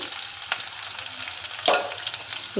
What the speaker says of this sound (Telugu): ఒక మీడియం సైజు ఉల్లిపాయని ఈ విధంగా చిన్న చిన్న పీసెస్గా కట్ చేసుకొని ఆయిల్లోకి యాడ్ చేసుకోవాలి